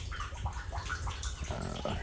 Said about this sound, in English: the water drains down here into this last setup